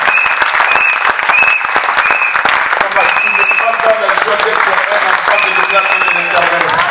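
A church congregation claps steadily and densely throughout, loud and close, while voices and tonal singing or cheering rise over the applause.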